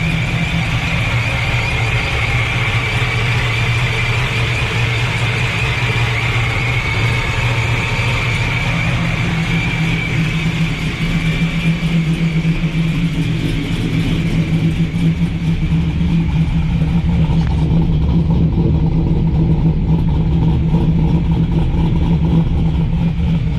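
A boosted fourth-generation Camaro engine idles loud and close with a steady low rumble and a pulsing lope, a high whine sitting above it throughout.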